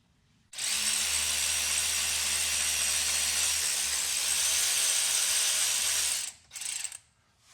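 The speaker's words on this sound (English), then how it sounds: "using a cordless ratchet makes things a lot easier" A cordless ratchet removes bolts on the rear differential of a 2022 Ram 3500 High Output diesel truck, whirring loudly and steadily for about six seconds close to the mic, then stopping after a brief final burst.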